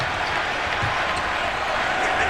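A basketball arena crowd at the Fleet Center, on its feet and cheering, a steady loud roar throughout with no break, during a 2003 NBA game between the Celtics and Pacers.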